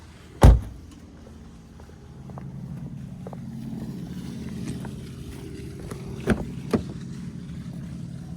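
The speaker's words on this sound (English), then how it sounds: "Very nice door open and close sound." On a 2022 Mercedes-Benz E350, one sharp door slam comes first, followed after a low running hum by two softer thuds as a door is opened and shut again, close by with no talking.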